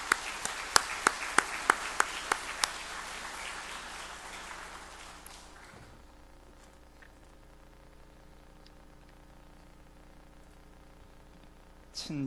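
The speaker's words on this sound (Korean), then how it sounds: "이제 크게 환영하면서 박수로 맞이하고 말씀을 듣도록 하겠습니다." Church congregation applause at a Sunday service greets a speaker with sharp, distinct claps that are loud and close at first, then fade into a soft spatter and room hiss. A brief bump sounds near the end.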